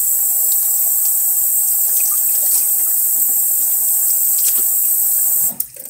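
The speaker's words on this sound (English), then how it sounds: "And now I'm going to hit it with cold water." Cold tap water runs over a Crystal Barbie doll's rerooted hair in a loud, steady hiss that cuts off abruptly near the end.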